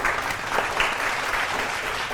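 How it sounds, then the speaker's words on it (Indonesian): Audience at an Indonesian TV quiz show applauds the contestant teams, a steady wash of many hands clapping at moderate loudness with no voices on top. "Tepuk tangan untuk kelompok peserta"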